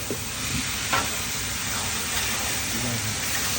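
Spice paste with turmeric and chili frying in a pan for mutton curry, a steady close sizzle with faint stirring scrapes throughout.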